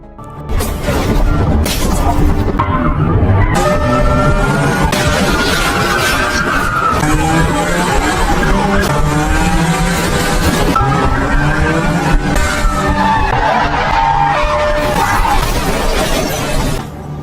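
Film car chase with police in pursuit: loud screeching tyres, revving engines and crashing impacts layered with dramatic score, a busy continuous action mix with brief sharp hits scattered throughout.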